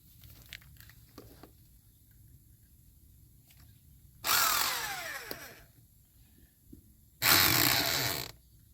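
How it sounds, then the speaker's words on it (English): Two loud bursts of a power drill whining and grinding as it drives drywall screws into a tire, each lasting about a second, separated by quiet pauses with faint handling noises. "Now we're going to put 3 drywall screws in it."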